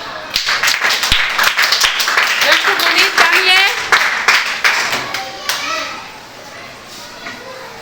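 Second-grade children clap in a Telugu classroom during an oral revision lesson, a burst of close, sharp hand claps mixed with children's chatter and a voice, fading after several seconds.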